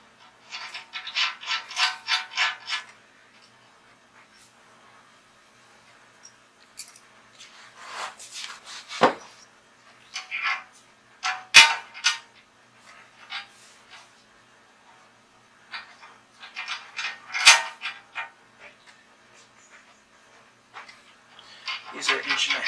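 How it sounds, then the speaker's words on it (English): Metal washers, a lock washer and a nut are fitted onto bolts with short bursts of ratcheting and scraping, repeated clicks and rattles separated by quiet gaps, heard close up. "Putting washers down first to protect the paint more than anything. Then a lock washer, then the nut."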